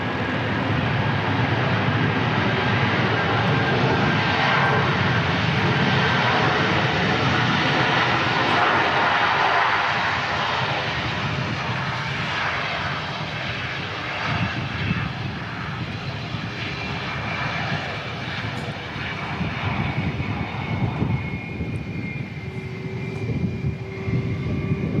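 Air New Zealand flight NZ527 from Auckland, an airliner, roars steadily at Christchurch Airport, a loud sustained engine rumble that eases slightly as it continues, with no talk over it.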